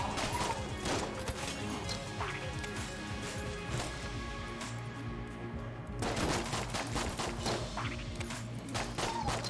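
Rapid bursts of gunfire in Enter the Gungeon aimed at a barrel, dense crackling volleys with sharp impacts, a brief lull, then another loud flurry of shots, no talking.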